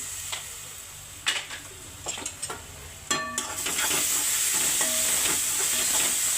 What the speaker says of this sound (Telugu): 1 స్పూన్ అల్లం పేస్ట్ వేస్తున్నానండి.